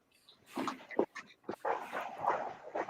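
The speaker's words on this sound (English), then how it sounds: "Like my dog is attacking me." A dog gives a few short, close barks and yips mixed with whimpering sounds, an excited irregular burst in a quiet room.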